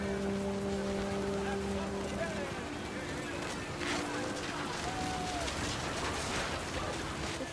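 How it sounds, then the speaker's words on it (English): Steady, dense rainfall from the video game What Remains of Edith Finch fills the scene as a constant hiss, with a low hum and faint tonal sounds beneath it. "Rain came down in buckets then"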